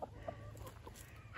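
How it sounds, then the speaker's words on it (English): Chickens in a garden giving a few soft, brief clucks, faint and close, over quiet background noise. "The chickens love it when they let them in here."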